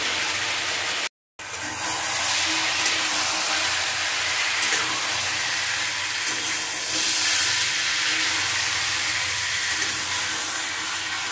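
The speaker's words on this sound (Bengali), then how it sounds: "দিয়ে দেবো আমি বেগুন আর শিম আর সজনে ডাঁটা দিয়ে আমি ভালো রকম করে কষিয়ে নেব" Brinjal, beans and drumsticks fry in a pan, making a loud, constant close sizzle and hiss that runs almost without a break.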